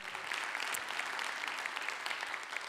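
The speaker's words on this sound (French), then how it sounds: "Vous pouvez applaudir cette magnifique carte postale." A studio audience applauds a striking postcard image shown on a big screen, a steady dense patter of many hands clapping at moderate level throughout, with no voices over it.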